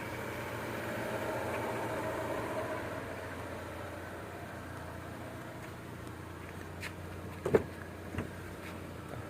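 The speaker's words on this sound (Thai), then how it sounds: "เครื่องยนต์เดินเรียบนะครับ" A 2008 Chevrolet Optra 1.6 LT engine idles smoothly with a low, even hum, heard alone and close, with a couple of faint clicks near the end.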